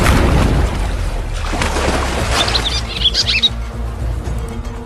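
Birds calling with short bright squawks and chirps over a loud splashing, churning water surge as African tigerfish strike at them near the surface; the cries come in a brief cluster midway.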